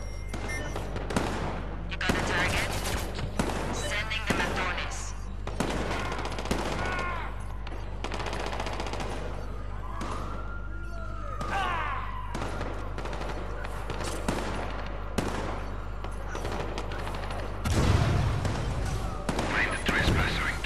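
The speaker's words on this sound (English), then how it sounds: "I thought he was shooting at me" Rapid bursts of gunfire from the video game Watch Dogs 2, loud and dense, with steady background game sound throughout.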